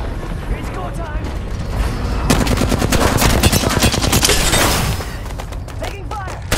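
Rapid automatic gunfire bursts in an Apex Legends firefight, dense repeated shots swelling loud through the middle and tapering near the end, mixed with game effects and excited voices talking over it.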